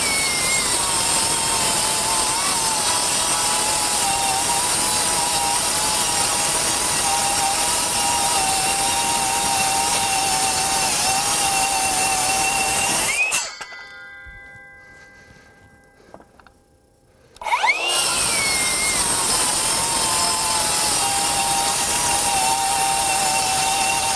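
A Metabo HPT MultiVolt C3607 cordless 7-1/4 inch rear handle circular saw cuts through wood, its steady high whine running loud and close, cutting out briefly into near silence before spinning back up.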